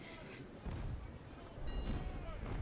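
Cannon fire from sailing warships during a naval battle in the Naval Action video game: a steady low rumble with repeated heavy booms, loud and close, with no speech.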